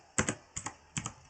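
Three quick pairs of keystrokes on a computer keyboard while entering Debian 10 network settings, evenly spaced, close and crisp in an otherwise quiet room.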